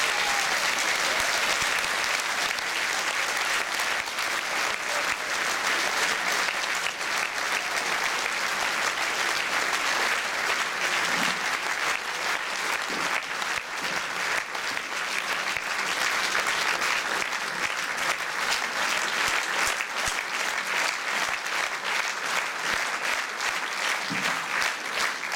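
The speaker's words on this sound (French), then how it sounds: "sous vos applaudissements, le grand Marcel Azola et Lina Basfati" Audience applause for accordionist Marcel Azzola and Lina Bossati at a 2012 festival, a long, steady roar of many hands clapping that holds at an even loudness for over twenty seconds.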